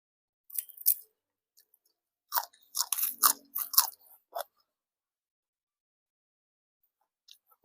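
Someone chews crunchy fried food, crispy Thai koi made with meat, producing close, loud crackling bites in a few bursts separated by silence.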